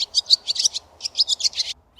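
A swallow calls in quick bursts of high, twittering chirps, two close, clear phrases separated by a short pause.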